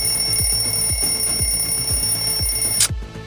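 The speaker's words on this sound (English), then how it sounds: "Sounds like timer has gone off, meaning it's time to wrap it up." A timer alarm rings with a steady high electronic tone and a rapid repeating pattern, loud and continuous, then cuts off abruptly near the end.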